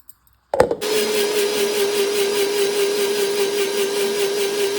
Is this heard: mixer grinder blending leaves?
yes